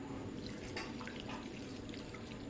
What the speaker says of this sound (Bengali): তো এই দেখো নিয়ে নিয়েছি চিড়ে আর দিচ্ছি জল অনেকটা